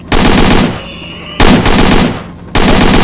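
During a helicopter hog hunt, three loud, close bursts of rapid gunfire sound in quick succession, each lasting under a second, with brief quieter gaps between them.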